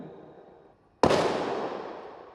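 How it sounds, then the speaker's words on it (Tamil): At a film pre-release event, a single sharp firecracker blast bursts out after near silence, followed by a long, fading crackling roar. "And that's the cracker, real bursting cracker."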